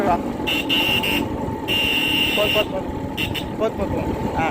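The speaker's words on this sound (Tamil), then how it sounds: "ஹார்ன் சவுண்டு கேட்குங்க அப்படின்ட்டு" Repeated motorcycle horn toots sound in short and longer bursts over a constant engine rumble, with a voice talking underneath.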